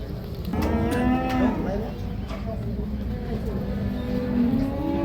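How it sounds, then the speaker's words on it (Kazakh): Young bulls moo loudly and repeatedly at a livestock market in Karakol, Issyk-Kul region, with people talking throughout. "Букачарлар."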